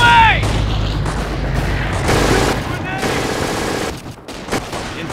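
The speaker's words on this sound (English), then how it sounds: "Grenades away!" In Company of Heroes, grenades burst amid the sustained gunfire of a 1944 battle at Vierville. The fusillade is dense and loud, with heavy booms under it and battlefield voices calling out.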